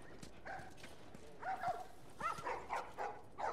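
Dogs in The Last of Us video game barking in a string of short yelps, moderately faint and mid-distance, spaced roughly evenly over a low background murmur, with no talking.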